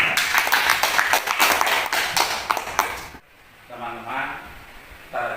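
Clapping from a group at an Indonesian school dissemination session on positive school culture, a dense burst of hand claps for about three seconds that cuts off abruptly, followed by quieter murmuring voices.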